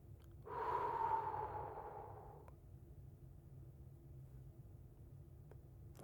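A single slow, deliberate breath drawn close to the ear, a soft airy rush that swells and fades over about two seconds, then quiet, with no talking.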